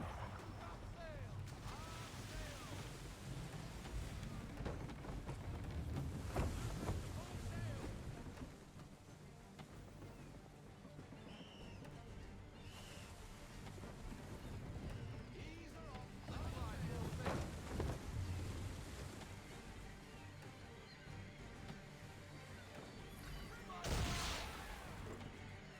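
A sailing ship at sea in the video game Assassin's Creed brings a steady roar of wind and waves with creaking and splashing surges. Voices shout orders over the noise.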